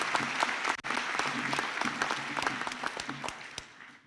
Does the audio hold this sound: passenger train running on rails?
no